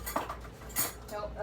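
Metal cutlery clinking and rattling as someone rummages through utensils for a small spoon, a few close, light chinks spread over a short moment with a faint voice nearby.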